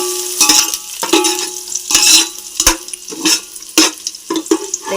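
Semiya sizzles in a pan with raisins and sunflower seeds while a spoon stirs it, giving repeated loud scraping strokes over a steady frying hiss.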